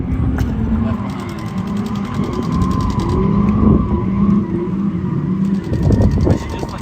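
A Toyota Chaser 100, rebuilt after being totalled, drives laps on a track, its engine droning steadily and swelling under load, with brief tire noise and someone talking over the car.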